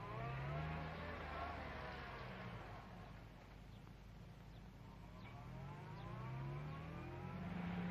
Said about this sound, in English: the purr becomes more throaty as he puts it through its paces